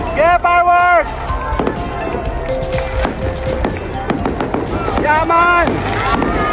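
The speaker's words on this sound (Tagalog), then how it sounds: "Fireworks!" Fireworks crack and pop at a Christmas capitol light show in Quezon, with sharp bursts scattered under excited voices that shout and talk throughout.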